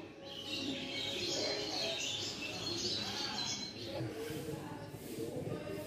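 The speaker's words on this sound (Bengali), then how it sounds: "এখানে খুব পায়রাও আছে আপনার।" Pigeons cooing and fluttering around a Shiva temple on a small hill in the Ajodhya hills, Purulia, a steady dense chorus of soft calls and chirps close by, with no talking.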